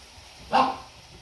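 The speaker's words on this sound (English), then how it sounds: "As soon as we take the camera out, everybody's got to make noise, bark, Maxie." A single short dog bark or yip, moderately close and fairly loud, rising out of quiet kitchen room tone.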